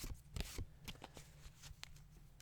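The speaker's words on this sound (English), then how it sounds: "focusing your attention on the shuffling sounds" Rapid papery riffling of tarot cards being shuffled, close and fairly quiet, with soft flicks and taps in quick irregular bursts.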